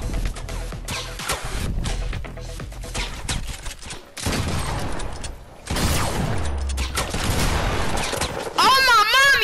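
Gunfire in a shooter video game comes in bursts of rapid shots and rattling fusillades, loud and close, broken by brief pauses and mixed with in-game effects and a player's voice.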